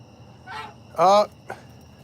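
Geese honk three times in a short burst, with the middle call the loudest and most harmonic, heard close by at a backyard poultry pen at evening feeding time.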